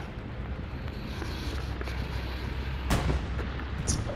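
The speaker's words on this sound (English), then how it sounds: "Bombing run's going right over top of it now." Bombing run explosions in a video game rumble low and distant as a continuous roar, with a sharper blast cracking through near the end and another brief burst just after.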